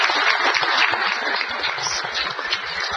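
A council meeting audience gives a brief round of clapping for staff members, dense steady hand claps filling the room for the whole stretch.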